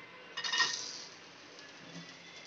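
Cashews tipped into a frying pan of a little hot oil in a home kitchen, landing with a short burst of clattering clinks against the pan, then settling into a soft, steady sizzle that continues to the end, with no talking.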